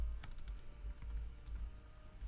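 Steady typing on a computer keyboard, a rapid run of light key clicks, close and fairly quiet, with no voices.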